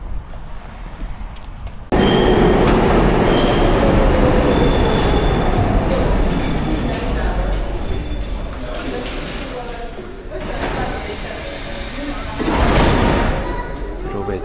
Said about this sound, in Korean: 유럽의 첫 번째